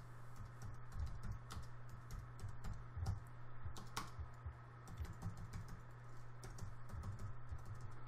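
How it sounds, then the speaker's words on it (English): Typing on a computer keyboard, a steady stream of quiet close key clicks over a low electrical hum, no talking. "Now whatever I type on my master keyboard"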